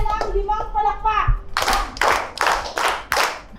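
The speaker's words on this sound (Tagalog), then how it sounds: "Bigyan natin sila ng limang palakpak!" A voice speaks briefly during an online theater workshop. A group then claps five sharp, evenly spaced claps in a quick rhythm.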